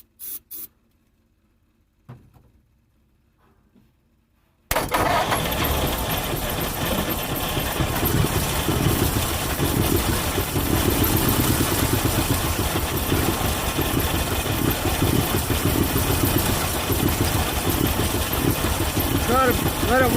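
A 1950 Mercury engine, abandoned for more than 35 years, catches and runs at a steady, loud idle after a few faint sputters and a brief silence, holding its rough rumble to the end.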